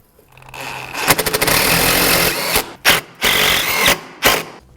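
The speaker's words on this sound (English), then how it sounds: "we're going to take our 2 M6x20 thread forming bolts and we're going to put them right in the frame." A power tool drives two M6x20 thread forming bolts into the frame of a Yamaha Wolverine, a loud buzzing whir that runs steadily, then stops and starts in short bursts, no talk.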